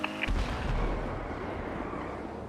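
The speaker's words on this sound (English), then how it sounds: "what was that explosion?" An explosion in the video game GTA V on the NoPixel roleplay server: one loud, close blast that sets off a broad, sustained roar and rumble, fading slowly, with no voices.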